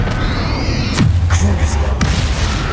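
A Confringo blasting spell in Hogwarts Legacy bursts in a sharp, booming explosion with a falling whoosh, followed by a second blast a second later, over busy game combat sound and a voice.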